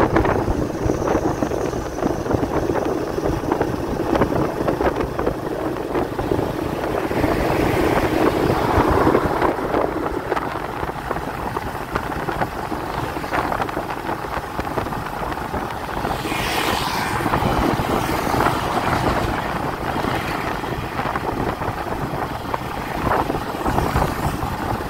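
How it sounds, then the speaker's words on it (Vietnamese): Strong wind buffets the microphone on the Co Chien bridge in Vietnam, a loud, continuous roar with gusting surges that runs throughout and never lets up. "Quá chừng gió luôn."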